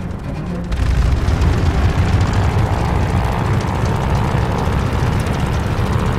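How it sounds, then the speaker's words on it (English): An aircraft engine runs up in the Call of Duty Vanguard Battle of Midway mission, a loud, steady propeller roar and rumble that rises a moment in and holds without a break, with no speech. "All right, do an engine run-up."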